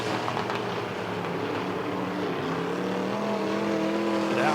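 Midwest modified race cars lap Lebanon Midway Speedway in a continuous, loud engine roar that holds steady and climbs in pitch toward the end as cars accelerate past.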